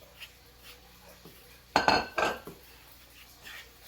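Tupig batter being mixed in a bowl, a short burst of clinking and scraping utensil-on-dish sounds in the middle, close, between quiet stretches.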